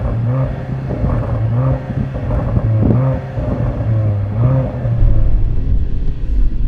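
A sports car engine revs hard at a drag race, its exhaust popping and banging. The tone climbs and falls in repeated loud surges, close by and continuous, with no talk.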